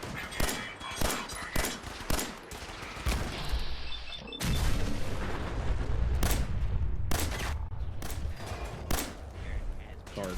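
Gunfire from the Fallout 4 video game: a run of sharp rapid shots, then a heavy explosion-like blast giving way to sustained rumbling fire and more repeated cracks, loud and close, with someone talking over it at times.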